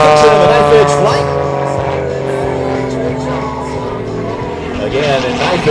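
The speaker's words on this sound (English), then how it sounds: "in knife edge, it's pure engine power as the wings are absolutely producing no lift in knife edge flight" Extra 330LX aerobatic plane at a regional air show in knife-edge flight, a loud sustained engine drone with shifting pitch, heard under continuous commentary from a man over the loudspeakers.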